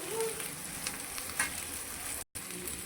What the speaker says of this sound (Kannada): ಇವಾಗ ಇದು ಮಸಾಲೆ ಒಟ್ಟಿಗೆ ಫ್ರೈ ಆಗಬೇಕು